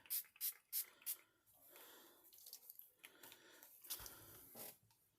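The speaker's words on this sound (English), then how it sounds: "shake it up, wipe the nozzle for anything that might have leaked out while you're thinking, and we're going to spray" Four quick, sharp hisses of a spray bottle burst out in rapid succession, followed by quieter handling noises and a later softer spray, close and fairly faint.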